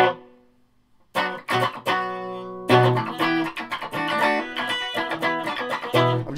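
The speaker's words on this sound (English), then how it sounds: "Just playing through the Orange TH-30, it is running through a 3x12 cabinet, there's a reverb pedal on." An electric guitar plays through a Corker pedal into an Orange TH-30 amp and 3x12 cabinet with reverb on, a sustained chord followed by a run of loud, driven strummed notes ringing out.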